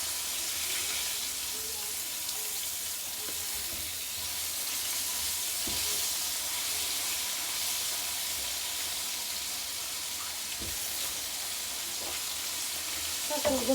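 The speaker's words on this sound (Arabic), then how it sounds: "صافي الحوت ها هو كيتقلى" Fish frying in hot oil in a home kitchen, a continuous bright sizzle close by with occasional soft knocks and clatter, steady throughout, with no one talking.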